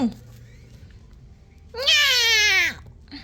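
A cat gives a single loud, close meow that rises and then falls, following a brief quiet stretch.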